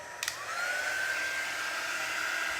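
Heat tool drying a stenciled craft card: a short click as it switches on, then a steady, close whirring blow with a rising whine that holds evenly to the end.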